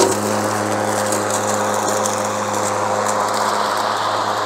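Steady, loud hum of a Mowrator 21-inch remote control lawn mower running continuously while picking up old leaves, sticks and twigs, with a constant motor drone and broadband whir throughout and no talk.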